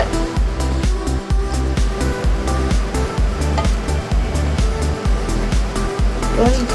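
Water is poured from a cup into a pot of rice for veg biryani, giving a close, continuous splashing gush with steady, rhythmic pulses throughout.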